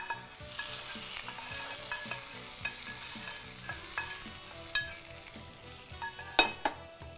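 Curry leaves and asafoetida sizzle in hot oil for venn pongal, a steady dense crackle with occasional sharper pops and light stirring clinks, fairly close and continuous with no voices.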